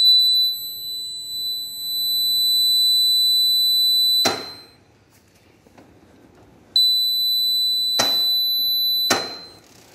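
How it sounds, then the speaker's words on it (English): The side stand warning beeper on a TVS Apache RTR 180 motorcycle sounds a loud, shrill, continuous electronic tone, pauses for a few seconds, then resumes, with a few clicks and knocks in between. "the beeper is there behind this visor"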